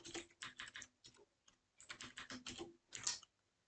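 Code being typed on a computer keyboard, with rapid bursts of clicking keystrokes, short pauses between runs, close and fairly quiet, with no voices.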